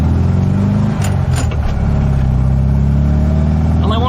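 A Volkswagen Type 3 fitted with dual carburetors, running loud and close, revving up briefly near the start and then settling into a steady idle, with faint talk in the background.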